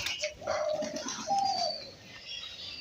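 Pigeons in a flock of about 25-30 pairs coo while pecking at scattered feed, giving soft, fairly close throaty coos and faint chirps in a quiet setting.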